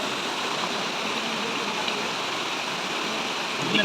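A forest stream flows steadily as chicken is washed in it, giving an even, close rushing hiss of water running on its own with no talk.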